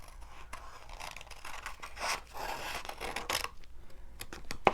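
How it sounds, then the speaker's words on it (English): Scissors snipping and scraping through clear card material during card making, a series of soft, close cuts and rubs with faint handling noise, no talk. "I wonder if I could cut around this one."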